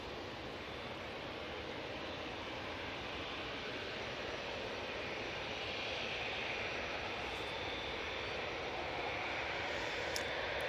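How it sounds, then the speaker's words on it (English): EasyJet Airbus A320-200 airliner arriving from Geneva near Manchester Airport, a faint, steady distant jet roar that slowly builds in strength, with no voices. "we have the EasyJet from Geneva using A320-200"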